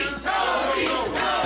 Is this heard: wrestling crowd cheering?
yes